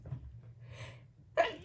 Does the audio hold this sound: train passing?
no